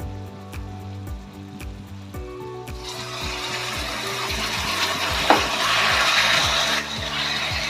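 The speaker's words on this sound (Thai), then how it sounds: "ก็หมูลงไปผัด" Pork stir-fried in a pan, a close, rising sizzle and hiss that takes over partway through, with a steady background tune droning underneath.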